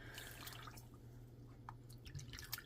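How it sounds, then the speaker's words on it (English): Water poured into a pot for making chocolate, caramel or strawberry syrup gives a soft, steady trickling and dripping stream, close and faint, with a low hum underneath and no talk. "And then we're going to get 2 cups of water in here."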